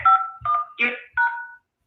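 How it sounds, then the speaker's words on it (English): Touch-tone phone keypad beeps as a PIN is entered into a dialer system: four short, distinct DTMF tones in an even rhythm, clear and close, followed by silence. "Your touchtone phone, please enter your PIN number."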